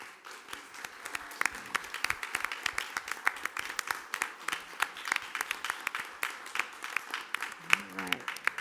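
A school board meeting audience applauds a staff member from the transportation department. The clapping is a steady dense patter of many hands, moderately loud and continuous for several seconds, and a voice briefly shows through near the end.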